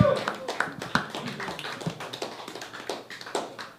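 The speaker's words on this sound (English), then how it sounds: "That's the lamest post-masturbation clap I've ever heard in my life" Scattered, half-hearted clapping from a small open-mic stand-up comedy audience, a few uneven claps rising briefly and fading while a comedian talks over it.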